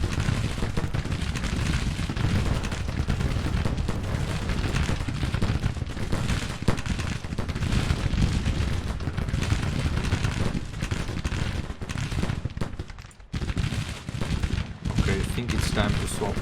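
Dense musket volleys roll continuously through a Civil War battle in the strategy game Grand Tactician: The Civil War, a loud, steady crackle of massed rifle fire with heavy booms, and a voice talking faintly underneath.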